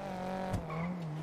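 Tires skid and squeal briefly as a car slides in a GTA roleplay game, with a steady engine drone underneath and no crash impact standing out.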